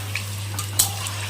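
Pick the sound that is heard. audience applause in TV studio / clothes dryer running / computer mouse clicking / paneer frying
paneer frying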